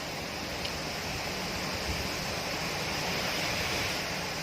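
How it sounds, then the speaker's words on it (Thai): Strong wind rushes steadily over an outdoor vegetable garden, a constant broadband roar buffeting the microphone without letting up. "ลมแรงแรงวันนี้"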